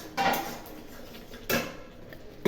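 A metal lid set onto a pot of dal with greens, two short clanks about a second apart, near and moderately loud in a quiet kitchen, with a faint tap at the end.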